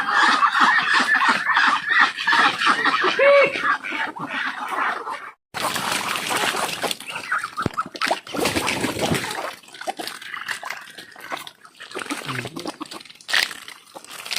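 Chickens and chicks cluck and peep around a flooded farm hut, busy overlapping fowl calls continuing throughout, with occasional splashing and handling noises nearby.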